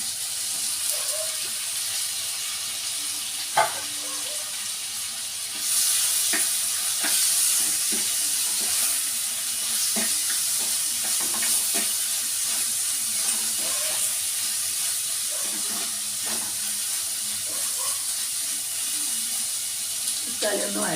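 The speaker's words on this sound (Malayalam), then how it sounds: "തക്കാളി ഒന്ന് വഴന്നോട്ടെ, വെയിറ്റ് ചെയ്യാം കേട്ടോ." Tomatoes sauté with softened onions in a pan, a steady close sizzle and hiss running throughout, broken by light scrapes and clinks of stirring.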